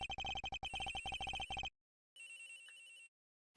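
A cell phone rings in the Ace Attorney Investigations video game, a rapid repeating electronic trill in two loud bursts, a brief silence, then another clear ring alone with no voices.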